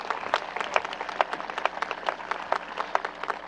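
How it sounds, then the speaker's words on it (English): An audience applauds the senior class advisors at a school event, with a moderate crowd clapping that holds steady through the whole span and sounds slightly distant. "If we could have a round of applause for them."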